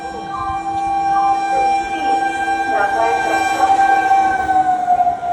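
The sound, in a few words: train arriving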